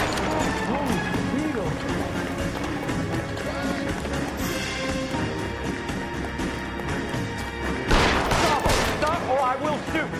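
Gunfire in the L.A. Noire video game, scattered shots and bursts against game music and shouting voices, with a louder cluster of shots near the end.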